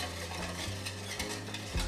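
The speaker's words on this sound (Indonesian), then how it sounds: "Ini terus kita aduk sampai mendidih ya" Sweetened condensed milk drink mixture being stirred in a pot on the stove for es teler, a steady wet swishing with faint simmering sizzle, close and continuous with no voices.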